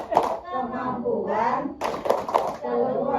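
A group of women in a community family-development meeting chants the Tepuk P2K2 routine together, with claps falling in time under the loud, close unison voices.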